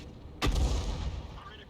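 A 105 leFH18B2 artillery piece fires a single loud, close shot in World of Tanks, and a rumbling boom trails off after the blast.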